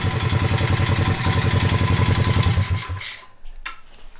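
A modded Honda pit bike engine runs steadily at close range with a rapid, even mechanical pulse, then cuts off abruptly near the end, leaving a brief quiet tail.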